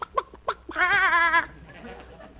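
A few short chicken clucks followed by a long, drawn-out warbling call from a nearby bird, then quiet.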